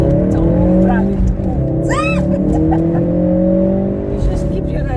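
Car engine rising in pitch as it accelerates, loud and close from inside the cabin, with people talking over it.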